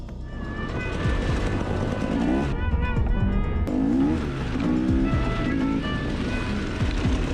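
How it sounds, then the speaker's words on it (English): Motorcycle engines revving and whining as a bike circles past a fallen police dirt bike, loud and continuous with rising and falling pitch sweeps, some tire noise mixed in. "The biker decides to taunt and make fun of the cop by circling and passing by the cop's fallen dirt bike."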